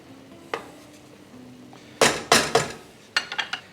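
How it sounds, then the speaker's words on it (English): A spoon stirring dried Italian seasoning or oregano into a dish in a pan scrapes and clinks in a few short bursts, with quiet pauses between the strokes. "Stir that in."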